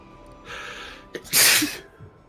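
A single sharp sneeze bursts out close by, preceded by a brief intake of breath, with a little quiet room noise around it.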